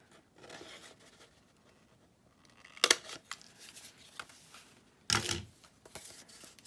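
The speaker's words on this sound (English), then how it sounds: "I want to cut a little, just a little thumb hole there." Two short, crisp snips of scissors cutting a small thumb hole into a paper journal page for a vintage-style mini Christmas junk journal, close and isolated amid quiet rustling of paper.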